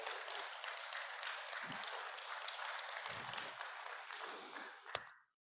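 A church congregation claps in a sustained, even round of applause that fades out over several seconds, with a brief sharp tap near the end before silence.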